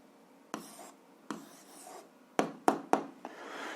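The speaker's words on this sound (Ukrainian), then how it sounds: "Пишемо відповідь." A pen writes an answer by hand on paper, several short scratchy strokes and taps in bursts with quiet gaps between.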